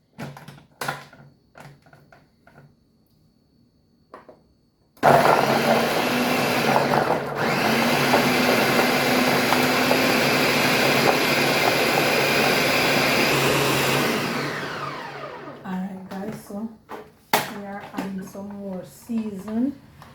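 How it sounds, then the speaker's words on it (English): A blender whirs loudly for about ten seconds, blending Jamaican seasoning with garlic and pimento berries, starting abruptly and winding down; a person talks briefly before and after. "so let us blend this now"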